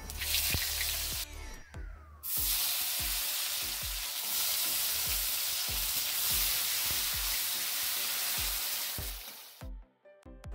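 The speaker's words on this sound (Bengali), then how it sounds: "এবার ওই একই তেলে গোটা জিরে, তেজপাতা এবং টমেটো কুচি দিয়ে নাড়াচাড়া করে নেব।" Whole cumin, bay leaf and chopped tomato hit hot oil with a loud burst of sizzling that holds steady for several seconds amid frequent stirring clicks and scrapes, then quiets abruptly near the end; no voices.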